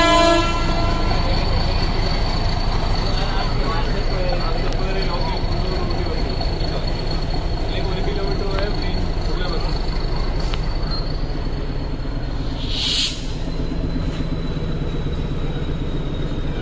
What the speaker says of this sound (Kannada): ಇದು ಊಟಿ ಟ್ರೈನ್.